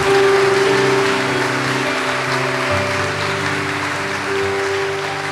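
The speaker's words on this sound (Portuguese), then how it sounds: "Dá uma salva de palmas ao Senhor. Aplaude com fé, com fé" A church congregation claps steadily and densely throughout, a broad wash of applause over sustained keyboard or organ tones that shift pitch partway through.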